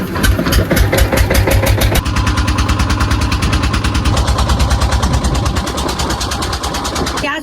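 A boat's engine runs loud and close as it carries passengers across the sea toward an island, its steady rapid chugging pulses holding throughout.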